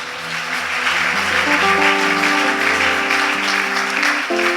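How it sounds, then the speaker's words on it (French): A church congregation claps and cheers together in a sustained, dense wash of applause, with music tones holding underneath. "Acclame Jésus, acclame Jésus."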